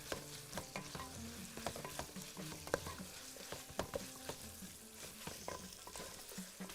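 Meat for margog fries in a pot while being stirred, with a continuous sizzle broken by frequent scraping and clinking strokes of the spoon against the pot, close and moderately loud with no talking.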